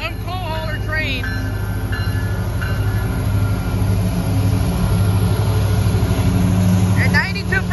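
A Detroit-style coal hauler train rolls past a crossing in Holland, Ohio, a loud, steady rumble of engines and wagons close by, with crossing bells ringing, brief squeals, and people talking.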